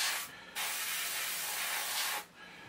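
An airbrush at modest pressure atomises paint onto a model in two steady bursts of close, bright hiss, with a brief pause between them and a stop near the end.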